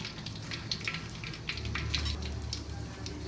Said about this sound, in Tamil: வெந்தயம் பொரிந்தவுடன்